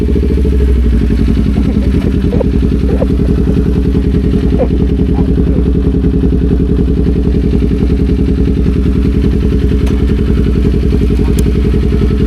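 A motorcycle engine idles steadily and loudly up close in a seaside town in Dingalan, Aurora, with a constant chugging rumble and light mechanical clatter throughout.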